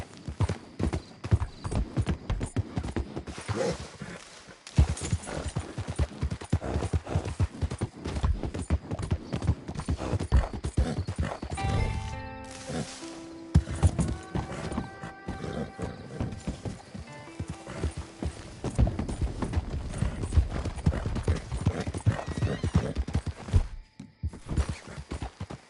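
Horse hooves gallop in Red Dead Redemption 2 with a dense, driving clatter for most of the stretch, a few neighs and snorts rising in the middle, and brief gaps and quieter passages between runs.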